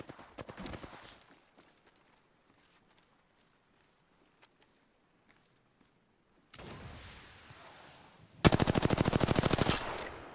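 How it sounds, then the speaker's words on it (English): Video game gunfire comes in loud rapid automatic bursts, first a short volley, then after a quiet stretch a longer sustained burst of fast, evenly spaced shots. "Opening fire on the enemy."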